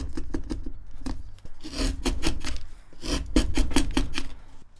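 Steel chisel paring a wooden brace on an acoustic guitar soundboard, a run of short close scraping, rasping cuts in quick bursts with brief pauses, fairly loud and alone.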